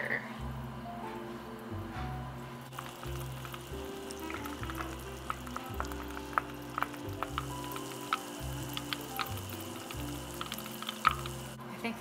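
Butter simmers gently in a pan while being cooked down into ghee, a soft steady bubbling sizzle with scattered pops and light utensil clicks, under a faint background hum.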